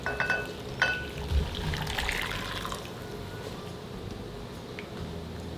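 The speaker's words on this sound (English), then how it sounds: "Cover with 2 cups of boiling water." Boiling water is poured from a kettle over dried peppers in a medium non-plastic bowl, a close, steady liquid pour with small clinks that continues for several seconds.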